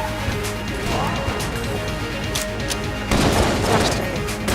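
Rapid overlapping gunfire bursts and impacts from an overpowered weapon in the game Enter the Gungeon, dense and loud throughout, intensifying near the end, with a voice talking underneath.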